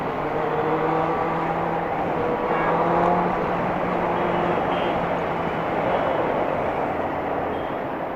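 A 2018 Benelli 600i ABS motorcycle engine droning steadily under a rider on the road, a continuous broad roar with faint tonal hum and wind, holding even for the whole stretch without any talk.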